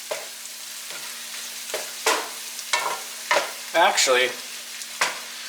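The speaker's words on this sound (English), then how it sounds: "You can actually let this now just saute." Mushrooms sauté in a pan for a creamy pasta, with a soft sizzle and repeated scraping stir strokes, and a brief spoken word near the start.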